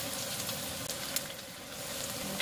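Crackling sizzle of intip, a crisp rice crust, frying in hot oil, with a steady bubbling hiss and a few sharp pops, close and moderately quiet, no voices.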